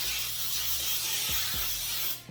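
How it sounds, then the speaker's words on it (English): Butter-with-flour Pam baking spray hisses into an 8x8 baking dish in a kitchen, a steady close aerosol spray running for about two seconds before cutting off. "And I'm just going to spray some Pam."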